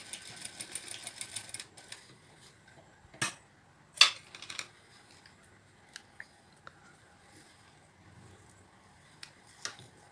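A sewing machine locks the stitch at the end of an invisible zipper seam with a short run of rapid, close stitching pulses, followed by scattered sharp clicks and handling noises in a quiet room.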